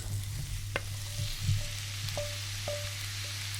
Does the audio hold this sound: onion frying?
yes